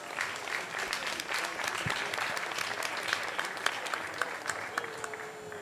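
An audience at a panel on women in the tattoo industry applauds for several seconds, a thick, even patter of many hands with a few sharper claps standing out near the end.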